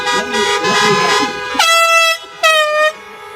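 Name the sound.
car horns honking at drive-in event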